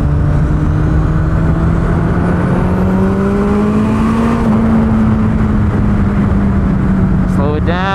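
A 300HP turbocharged Hayabusa motorcycle engine drones loud and close during a ride, its pitch climbing slowly under heavy wind rush with a brief shift near the end.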